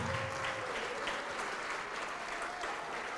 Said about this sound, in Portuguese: vamos aplaudir ao Senhor Jesus por cada vida que está vindo